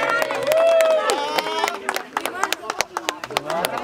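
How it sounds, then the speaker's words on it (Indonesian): An audience at a silver reunion gathering at a resort breaks into scattered, sharp clapping, with overlapping talk and excited voices. "Tepuk tangan dong."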